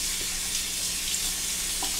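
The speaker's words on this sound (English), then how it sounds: "I'll take a Shave Nation face cloth and I'll wet this and I'll apply that to my face" Tap water running steadily onto a Shave Nation face cloth to wet it, a close, even hiss of flowing water with no talk.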